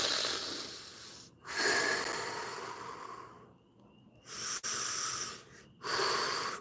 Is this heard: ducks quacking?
no